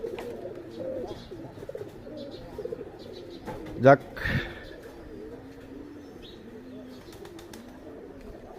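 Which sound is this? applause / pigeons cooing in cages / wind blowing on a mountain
pigeons cooing in cages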